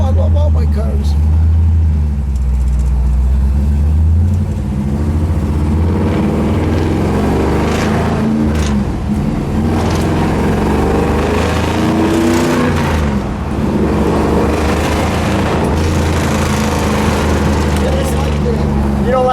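A blue 1963 Chevrolet Impala hardtop with a 409 V8 rumbles deep and loud nearby, swelling through several revs before settling back, running continuously.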